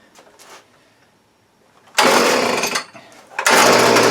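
A Hitachi leaf blower that was hard to start, running after a carburetor rebuild. Faint earlier noises give way to two loud, close bursts of engine roar, separated by a short drop in level.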